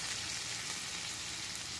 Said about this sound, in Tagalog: Tapos gigisahin natin ito.